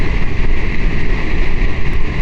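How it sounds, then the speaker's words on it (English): Steady, loud wind roars and buffets past a motorcycle helmet while riding, a continuous rumbling rush with no talk. "It's a weird wind this time of day. It's coming from the east."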